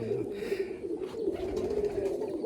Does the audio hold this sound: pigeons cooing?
yes